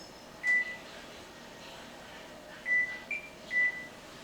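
A kitchen timer gives short, high electronic beeps as it is set: one beep, then after a pause three more in quick succession, fairly faint against quiet room noise.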